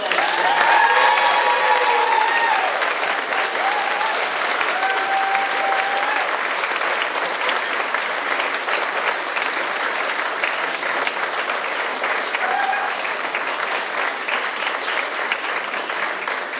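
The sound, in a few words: audience applause at awards ceremony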